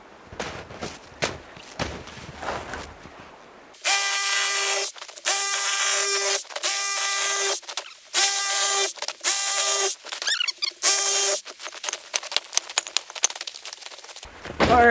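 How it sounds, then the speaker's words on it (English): A Sawzall reciprocating saw cuts through a pine tree by a creek, running in loud sustained bursts with brief pauses between strokes, preceded by quieter rustling and handling sounds. "What I've learned with the Sawzall is you gotta let the blade do the work."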